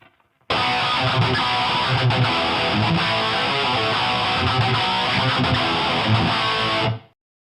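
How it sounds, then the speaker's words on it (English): A heavily distorted Randy Rhoads-style electric guitar tone from a Line 6 Firehawk FX, with reverb, plays a continuous, dense passage with a reverberant wash, loud and steady for about six seconds before cutting off. "Now let's hear the tone with reverb."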